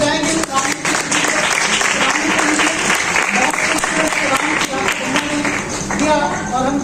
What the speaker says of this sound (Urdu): آئیے زوردار تالیاں بجائیں گے